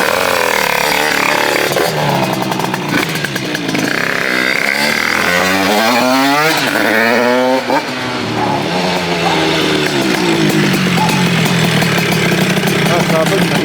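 A 100cc motorcycle ridden after dyno tuning, its loud close engine revving up and down through rising and falling pitch sweeps, with a voice talking over it.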